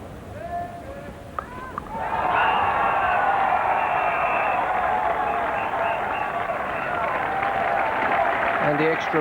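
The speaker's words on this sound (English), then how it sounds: "And the extra applause now for Gordon Greenidge, reaching 50 out of a total of 77." Sustained crowd applause at Lord's cricket ground during an England v West Indies Test match in 1984, rising after a quieter start and holding loud and steady from a distance across the ground.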